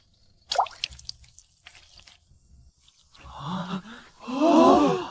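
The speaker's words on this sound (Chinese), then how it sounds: "让水顺着竹孔一滴一滴直接渗进作物的根部" Water drips through holes in bamboo pipes in a drip-irrigation setup for crops, a few scattered wet drops at first, then louder gurgling, splashing bursts near the end.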